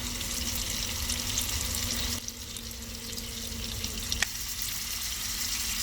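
Steady sizzling and bubbling from a hot pan of seasoned food with lemon juice, cooked inside a parked car while winter car camping by a reservoir, a continuous crackling hiss with a brief lull midway, no voices.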